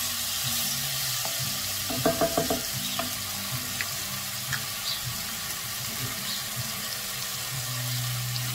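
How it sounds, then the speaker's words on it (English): Curried butternut squash stirred in a pot for soup, a few sizzling scrapes and wet stirs with a brief run of clinks, close under a steady cooking hiss. "I'm going to give it a couple of stirs here to get it all together"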